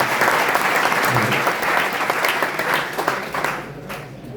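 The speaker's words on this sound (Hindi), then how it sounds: "अब बैठिए, ताली बजाइए, हिम्मत से आगे आइए।" A seated audience at a motivational talk applauds in a dense, steady wash of clapping. It is loud throughout and thins out toward the end.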